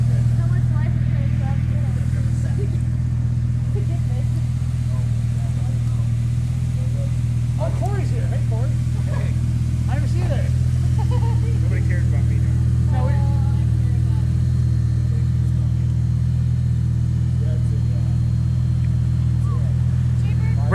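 A 560-horsepower Lamborghini engine idles with a deep, steady rumble, its low drone holding throughout the stretch as people talk nearby, with faint rises that suggest light revving.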